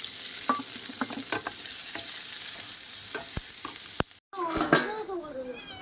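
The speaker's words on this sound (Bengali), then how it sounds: "এই যখন তেল দিয়েছি কড়াই, কাঁচা লঙ্কা পেঁয়াজ কুচি দিয়ে দেবো।" Green chillies and chopped onion frying in hot oil in a wok, a steady sizzle broken by sharp stirring clacks, with a brief cut followed by louder spitting and crackling.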